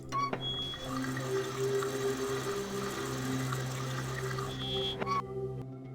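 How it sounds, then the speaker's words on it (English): Water rushes through an opened valve into a canister in The Journeyman Project 2: Buried in Time, a steady, close gushing flow over a low mechanical hum, beginning and ending with clicks of the valve. "we can actually take the water canister, attach it, turn the valve"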